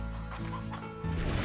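Hens in the video game Slime Rancher cluck in a few short, close bursts over steady game background sound.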